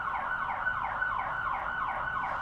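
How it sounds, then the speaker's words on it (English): Police sirens wail in a steady, repeating rise-and-fall cycle, loud and continuous throughout the short stretch, with no voices over them. "you can hear the police sirens coming for you"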